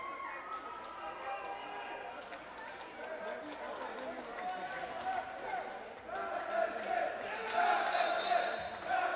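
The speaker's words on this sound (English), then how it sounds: "Very vocal crowd tonight." A vocal crowd at a high school volleyball game between Mountain View and Los Altos on the last game of the season keeps up a steady wash of cheering and chatter that swells toward the end, with sneaker squeaks and a commentator talking over it.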